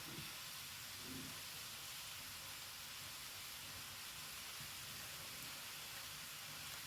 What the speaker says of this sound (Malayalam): ഇതാ ഇനി ഉള്ളി വഴന്ന് തുടങ്ങുന്നുണ്ട്